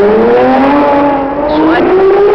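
Race cars at the 1966 Monaco Grand Prix, with Surtees' Ferrari leading and Stewart chasing. Loud, close engine howl with pitch climbing steadily as a car accelerates past.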